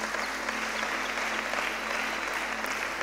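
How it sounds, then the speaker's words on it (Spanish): Steady, even applause from a church congregation, a continuous wash of many hands clapping at moderate distance with no voices standing out. "Dale ese aplauso al Rey"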